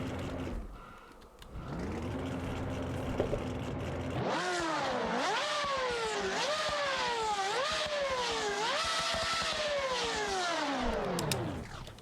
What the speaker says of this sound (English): this is running my NASCAR V8 style mod. This thing has, I think, 980 horsepower out of a twin turbo NASCAR V8